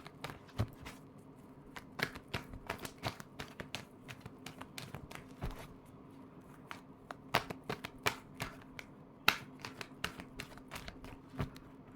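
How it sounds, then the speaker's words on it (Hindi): A deck of tarot cards is shuffled by hand, giving repeated crisp riffling snaps and soft flutters in irregular bursts, close and fairly quiet against a hushed room. "Last shuffle."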